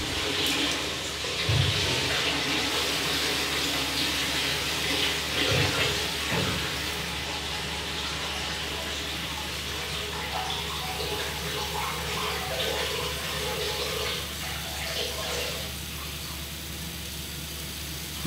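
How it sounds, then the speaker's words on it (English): Water from a garden hose running steadily while filling a vehicle's engine coolant system, a continuous hissing gush close by with small knocks and shifts, no talk over it. "you can hear that hose running"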